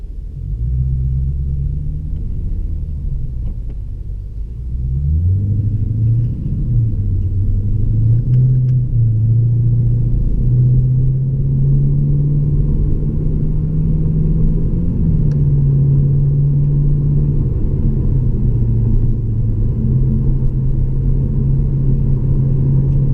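A Lexus RC F with an upgraded exhaust rumbles low and loud while driving, the deep engine note rising and settling through steady cruising and mild throttle changes, with no talking over it.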